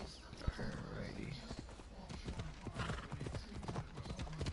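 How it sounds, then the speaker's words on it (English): Horse hooves clop in Assassin's Creed Odyssey, a quick, steady run of hoofbeats close by, with a short whinny and game sounds beneath someone talking. "Where's my horse at?"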